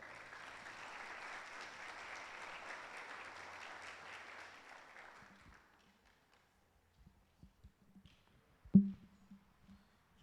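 Church congregation applauding during a Sunday Bible school session, a steady wash of clapping for about five seconds that fades away, then quiet with a few scattered knocks and thumps.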